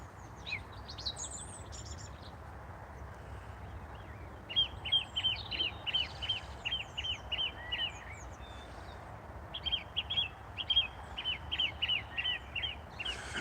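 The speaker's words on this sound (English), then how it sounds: "That very repetitive song is the song thrush." A song thrush sings outdoors, repeating short, bright phrases several times over in quick rhythmic runs, clear and fairly near above a steady low background rumble, with a few other bird calls at the start.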